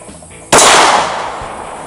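A single sharp 9mm pistol shot cracks out loud and close at a quickdraw shooting range, its broad burst lingering in a decaying echo over steady low background noise.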